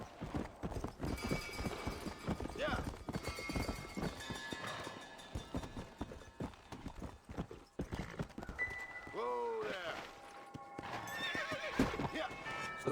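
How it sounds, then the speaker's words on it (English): A horse in the Red Dead Redemption video game gallops with rapid clip-clop hoofbeats and lets out a loud whinny near the end, over dense game background sound. "Este cavalo."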